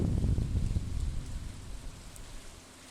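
Steady rain with a low rumble of thunder in the Stardew Valley farming game, loudest at the start and then easing into a soft, even patter.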